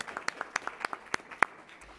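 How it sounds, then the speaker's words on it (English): Light, sparse applause from a small forum audience, a handful of distinct hand claps spaced irregularly over two seconds, fairly quiet and close. "Let's give them a round of applause as well, of course."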